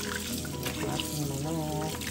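Hot tap water runs steadily into a sink while chicken is prepared for Korean-style fried chicken, a close, continuous splashing gush with a voice speaking faintly over it.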